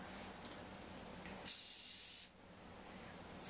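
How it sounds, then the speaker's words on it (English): Hairspray aerosol sprayed onto hair during an updo styling, one short burst of bright hiss lasting under a second, heard close over quiet room background with a faint brief puff earlier. "Spray."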